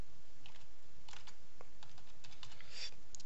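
Quiet keystrokes tapped on a computer keyboard while a document number is entered, a few scattered clicks in short bursts with pauses, alone and without talk.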